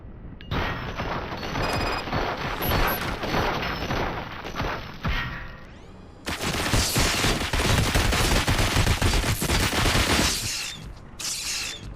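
Dense, sustained gunfire rages in RoboCop: Rogue City, with rapid overlapping shots and impacts that dip briefly around the middle before resuming at full, loud intensity.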